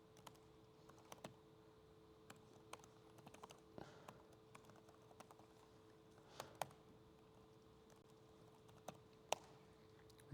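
Code being typed on a computer keyboard: soft, scattered key taps in an irregular rhythm, some sharper clacks standing out over a low steady hum, quiet and close with no talking.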